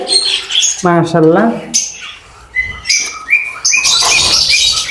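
Loud bird calls, chirps and squawks from several aviary birds close by, including lutino and red-eyed birds, with overlapping tweets and a brief talking voice among them.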